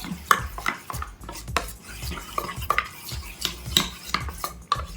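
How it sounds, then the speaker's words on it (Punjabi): Flour and arrowroot batter for spring roll wrappers is whisked in a bowl, producing quick, rhythmic clinks and scrapes of utensil against the bowl, close and fairly loud, with no talk. "ਚੰਗੀ ਤਰ੍ਹਾਂ ਫੇਂਟ ਕੇ ਘੋਲ ਬਣਾਉਣਾ ਹੈ ਆਪਾਂ"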